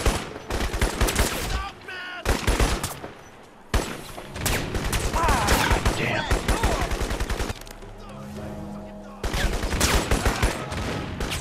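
Automatic gunfire rattles in the shooter game Crysis in loud, dense bursts of rapid shots, broken by brief pauses, with a quieter stretch of rumbling near the end.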